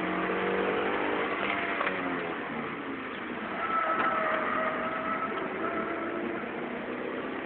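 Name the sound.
Toyota MR-S car engine accelerating on race circuit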